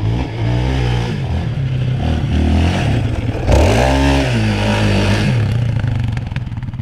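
A quad ATV drives past at close range, its engine droning and revving with the pitch swooping as it passes, along with some clatter and no talk.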